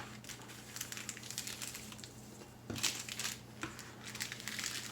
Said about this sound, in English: Just snip the bag open like this